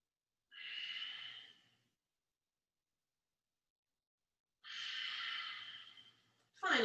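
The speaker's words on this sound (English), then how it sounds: "2 more breaths." Slow, deep breaths during a vinyasa yoga practice, with two long airy exhales separated by silence and a sharper intake at the end, close and fairly soft.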